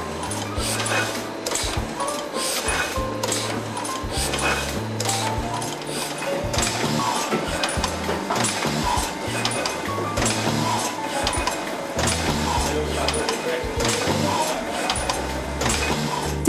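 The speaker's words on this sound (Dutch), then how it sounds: "Voor specifieke nabewerkingen wordt nog steeds een oude boekdrukpers ingezet." An old letterpress printing press runs in a print shop, giving a steady, loud mechanical clatter with repeating rhythmic thumps throughout, while a voice speaks over it.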